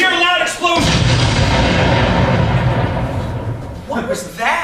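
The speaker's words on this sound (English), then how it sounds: "You hear a loud explosion." A loud explosion effect plays at a live fantasy stage performance, a heavy rumbling boom lasting several seconds before fading, with brief voices at the start and the end.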